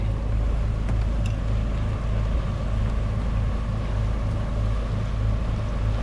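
A boat engine drones continuously with a low, steady rumble and rushing water or wind noise, unbroken throughout.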